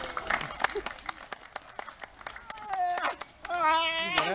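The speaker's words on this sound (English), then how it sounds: "that's clapping to get the thing up here" Sharp, rapid hand claps ring out near the lake edge to call over a huge crocodile, a steady run of crisp slaps, with voices talking and exclaiming over them toward the end.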